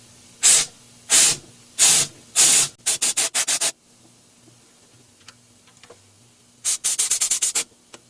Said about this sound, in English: now we're going to blow on the burners, and again that usually blows out the pilot.